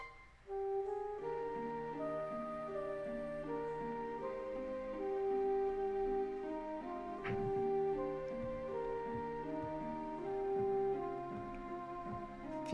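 Slow, low-pitched looping RPG Maker XP town music played at 50% pitch, with a plodding bass pattern and sustained melody, sounding slowed down and murky, playing steadily without voices.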